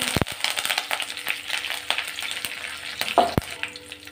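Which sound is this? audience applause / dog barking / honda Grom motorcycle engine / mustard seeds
mustard seeds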